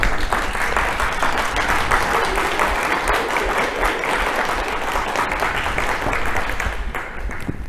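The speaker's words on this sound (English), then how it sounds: "turn around and give a round of applause to your families" Graduates at a spring social work hooding ceremony turn and give their families a round of applause, a dense, sustained wash of clapping from a large crowd in a hall, easing slightly near the end.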